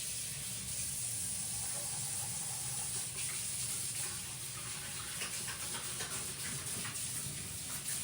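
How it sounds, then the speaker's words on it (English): Oily hands are washed under a running kitchen tap, a steady broadband splash and hiss of water that holds evenly for the whole stretch, close and fairly quiet, with no talking. "I'm gonna wash my icky hands"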